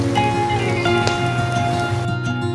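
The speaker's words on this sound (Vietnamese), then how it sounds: "Mưa không lớn lắm nhưng mà cũng đủ ướt đường rồi" Light rain falls steadily outdoors while sweet potatoes roast over charcoal, a continuous soft patter with no voices.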